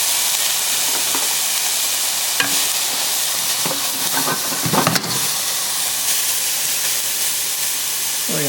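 Onion and five or six medium button mushrooms sauté gently in a pan, giving a steady soft sizzle and hiss, with a few brief stirring scrapes and clatters around the middle and near the end.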